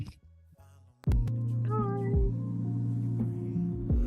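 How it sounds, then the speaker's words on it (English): Cat meows come through, drawn-out tonal calls heard over a loud, steady, sustained background tone, with a brief quieter stretch before it. "Nice cat."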